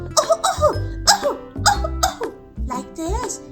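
A voice imitates a cold-sufferer's coughing in a children's puppet show, giving a run of five or six loud, close, harsh coughs in quick bursts, each with a throaty, voiced edge.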